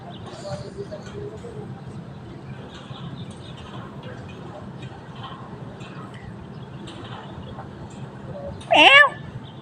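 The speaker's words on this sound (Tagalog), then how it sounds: "Yan po ang pusa." A cat gives a single short meow near the end, loud and close, after a long stretch of quiet outdoor background with faint talking.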